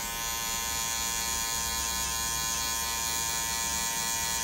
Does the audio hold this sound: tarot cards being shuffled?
no